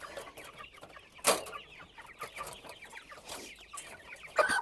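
Chickens on a village farm, fed only on corn, clucking close by in short overlapping calls with a few sharper squawks, busy and lively throughout.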